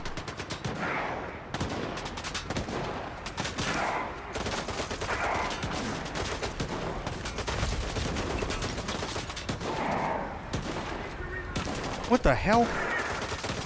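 Rapid bursts of automatic gunfire in a video game, repeated volleys at mid distance mixed with a talking voice and an exclamation near the end.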